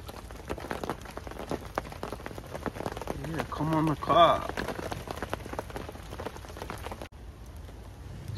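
Heavy rain drums steadily on the outside of a bivvy at a fishing lake, a constant pattering hiss beneath a man's brief low-level talk near the end.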